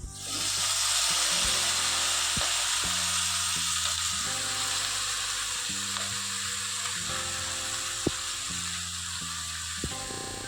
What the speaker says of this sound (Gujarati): હવે આ ભાજી ધોઈને લીધી છે એ નાખી દેવાની।